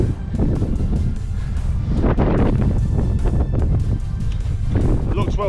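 Strong wind buffets the microphone at an exposed wild camping spot on an edge, a continuous loud rumbling roar with gusts, while someone talks over it.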